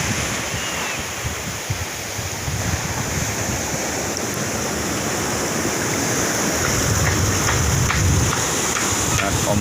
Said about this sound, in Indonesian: Dan ombak besar.